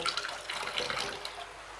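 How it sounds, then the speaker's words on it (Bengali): Water poured from a container into a pan of yardlong beans, a short splashing, gurgling pour close by that tapers off toward the end, no speech. "আমি জল দিয়ে দিচ্ছি।"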